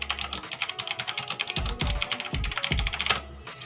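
Rapid keystrokes on an HP GK100 mechanical keyboard, quiet and close, with a steady patter of clicks and a few louder, deeper key thumps, no talking over it.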